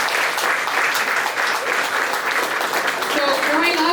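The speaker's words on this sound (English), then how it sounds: "So let's give a round of applause for the beautiful couple," Wedding guests applaud the newly married couple during a maid of honor speech. The clapping is dense, loud and continuous, a steady wash of hands from start to finish.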